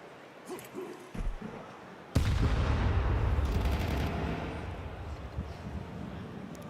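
A grenade blast in a Counter-Strike match at IEM Atlanta, a sudden loud boom followed by sustained rumbling and scattered gunfire, with a commentator's voice faintly under it.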